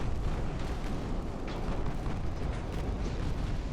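Naval shellfire rumbles through a battle in the video game Ultimate Admiral: Dreadnoughts, a continuous heavy roar of booming gunfire and distant explosions blending together, loud and low-pitched, with no voices.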